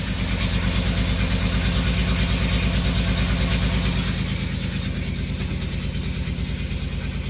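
A 1989 Chevrolet Celebrity's 2.8 V6 runs steadily up close under a little throttle, a loud continuous low engine drone that settles into a smoother, even rhythm partway through.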